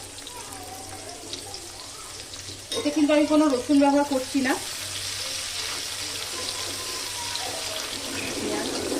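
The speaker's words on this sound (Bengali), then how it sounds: "তেলটা গরম হয়ে এসছে, এবার আমি এতে জিরে ফোড়ন দেবো। এবার আমি দিয়ে দেবো পেঁয়াজ।" Onions and cumin seeds frying in hot oil in a wok for brinjal bharta, a continuous hissing sizzle that runs under a brief stretch of talk in the middle.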